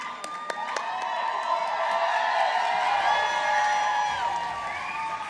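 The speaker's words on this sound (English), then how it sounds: "Give yourselves a big round of applause." Crowd cheering and applause at a Dancing with the Stars charity dance event, whoops and shouts over scattered clapping, fairly faint and roomy, swelling then easing off.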